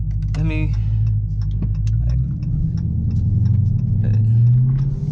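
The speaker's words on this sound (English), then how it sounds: "y'all can still hear it right now. So I love the way this car sounds." A Dodge Charger R/T engine rumbles low and steady from inside the car while driving, with a few faint ticks and a brief higher tone near the start over the continuous drone.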